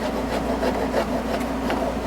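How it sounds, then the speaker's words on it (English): A rasp files a wooden knife handle in quick, steady back-and-forth strokes, a continuous close gritty rubbing with no speech over it. "Take this rasp"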